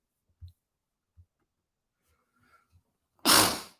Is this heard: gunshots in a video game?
no